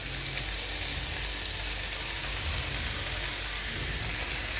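Chopped tomatoes in a pan of soaked sabudana for fasting khichdi give a steady, even sizzling hiss, close and unbroken throughout, with no voices.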